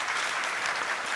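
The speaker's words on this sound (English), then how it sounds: "please give a warm applause to our panel members" Warm, dense applause from a conference audience at a military keynote and panel event in Hawaii, a brief, even burst of many hands clapping at once.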